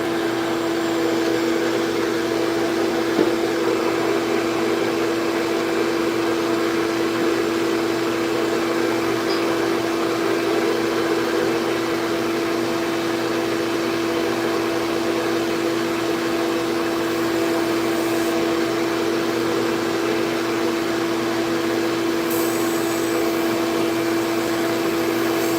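A ferrule for a custom brush being shaved down: a steady, loud mechanical drone with a constant tonal hum that holds unchanged for the whole stretch, with no talking.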